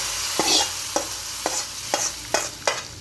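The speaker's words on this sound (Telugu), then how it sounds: "ఇదిగోండి తాలింపు వేసేస్తున్నాను" Tempering being stirred into a pot of gongura curry, with six sharp scraping strokes of a spoon against the pan at a steady rhythm over a faint, continuous sizzle, close by and with no voices.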